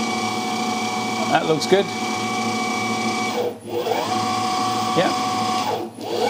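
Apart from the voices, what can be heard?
CNC mill spindle running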